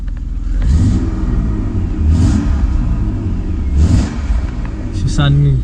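A BMW E36 328i engine idles roughly just after its first start, a loud, close, uneven low rumble with periodic surges, and a voice speaks briefly near the end.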